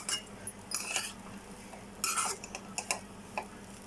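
Chicken fried rice tossed and mixed in a pan with a spatula, producing close, irregular scrapes and metallic clinks in short bursts over a low sizzle, without talk.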